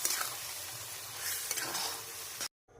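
Semolina sizzles and is stirred in a pan, a steady frying hiss with scraping spatula strokes that cuts off abruptly near the end.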